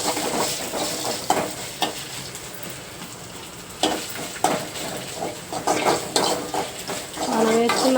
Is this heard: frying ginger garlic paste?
yes